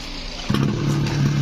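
A small Mitsubishi TL26 brush cutter engine idles close by, starting with a sharp catch and settling into a steady, smooth low hum with no voices.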